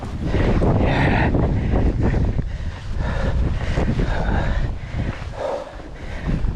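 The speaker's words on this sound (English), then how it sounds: "this side wind is terrible" Strong side wind roars and buffets across the microphone of a moving bicycle, a continuous loud rushing blast with surging gusts throughout.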